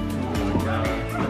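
Puppies from a litter of nine yip and whimper close by in a quick, busy cluster of short high cries over a steady background hum.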